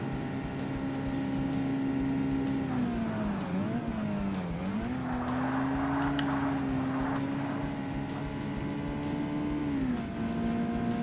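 A Mazda Miata races in the 2005 Xbox game Forza Motorsport, its engine a loud, sustained buzzing drone that dips and climbs through shifts and corners, with a brief rougher scrubbing stretch midway and no talk.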